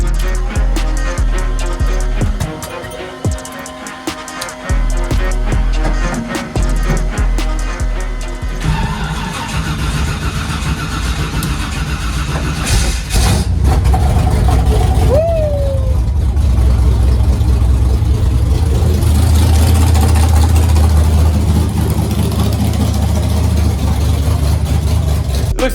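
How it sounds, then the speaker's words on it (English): Cold start of a 1969 Chevrolet Nova drag car engine: a rough, uneven sound builds until the engine catches around the midpoint, then settles into a louder, steady, close idle rumble. "Let's get a cold start in, see what it does."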